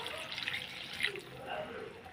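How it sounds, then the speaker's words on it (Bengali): Water poured into an iron kadai of cooking dal with jute leaves gives a brief, soft splashing trickle with faint drips, close by and fairly quiet. "এখন আমি জল দিয়ে দেবো।"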